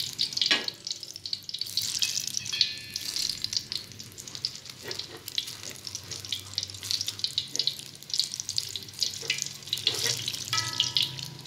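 Hot water runs from a tap into a sink, a steady close hiss and splash broken by clatters and brief bursts.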